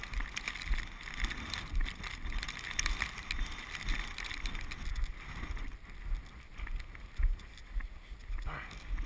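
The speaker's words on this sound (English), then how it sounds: "A little windier today." Steady wind gusting across open North Dakota country with snow drifts, a continuous rushing buffet on the microphone that swells and eases throughout, loud and close.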